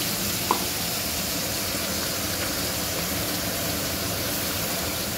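Food sizzles steadily in hot oil in a home kitchen, a constant close hiss with one brief louder crackle early on and no talking.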